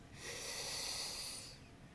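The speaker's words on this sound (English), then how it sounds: "So you want that cool air to come in, breathing into your body." A single long, airy inhalation drawn in over the curled tongue in Sitali pranayam breathing, a steady close hiss that swells and holds for over a second before fading.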